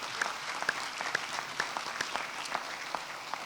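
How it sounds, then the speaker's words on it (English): Applause at an outdoor bridge dedication and ribbon-cutting ceremony, a modest crowd clapping steadily at a moderate distance, with individual claps standing out. "So let's give them all a round of applause."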